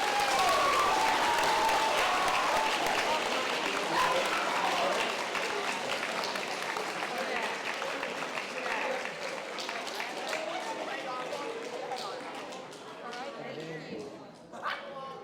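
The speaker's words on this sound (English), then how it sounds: "Please give her a round of applause." Audience applause fills an award ceremony honoring a teacher, a dense sustained clapping that starts loud and slowly tapers over about fifteen seconds, with a few voices mixed in near the end.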